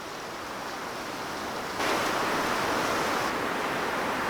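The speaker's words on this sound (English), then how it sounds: "There's quite a bit of wind." Strong wind gusts roar outdoors beside a creek and spruce trees, a steady broadband rush that swells louder about halfway through and holds, with no voices.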